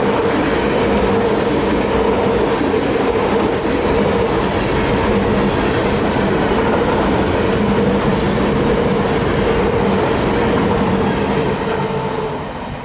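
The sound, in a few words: train passing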